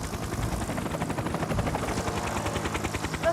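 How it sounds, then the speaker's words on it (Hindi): A cartoon helicopter flown by Tom Thomas in Fireman Sam chops steadily overhead, its rotor beating in a fast, even rhythm at moderate loudness throughout. "टॉम थॉमस अपने हेलीकॉप्टर के साथ।"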